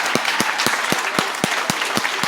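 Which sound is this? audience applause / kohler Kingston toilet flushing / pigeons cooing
audience applause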